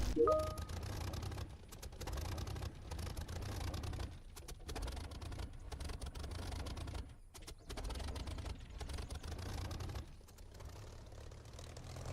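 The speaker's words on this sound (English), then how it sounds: "I can't tell if his engine's running, it sounds spluttery." A low, rough aircraft engine drone in the DCS flight simulator game that sputters and cuts out briefly several times at irregular moments, with a short electronic beep at the start.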